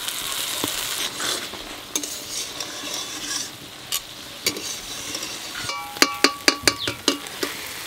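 Spices frying in a pan with tomato, salt and turmeric, a steady sizzle under repeated stirring, with sharp metallic clinks of a utensil against the pan clustering near the end.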